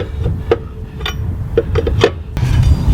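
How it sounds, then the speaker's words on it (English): Metal clanks and rasping scrapes from a lug wrench tightening lug nuts on a Casita RV wheel, several sharp close knocks at an uneven pace over a low rumble, with no talk. "I'm going to finish tightening up those lug nuts"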